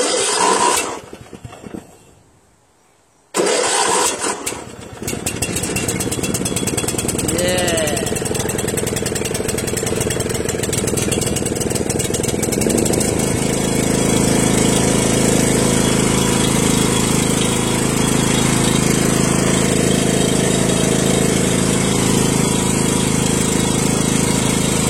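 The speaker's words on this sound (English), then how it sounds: "Cold start. First time in 2 weeks." A motorcycle engine cold-starts after two weeks unused, catching after a brief crank and a short pause, then settling into a loud, steady, close-up idle that holds throughout.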